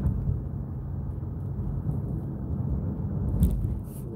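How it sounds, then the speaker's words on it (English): Steady heavy rain pours down on an island, a dense continuous hiss with low rumbling underneath that suggests thunder, holding for several seconds. "Oh, now it's starting to rain again."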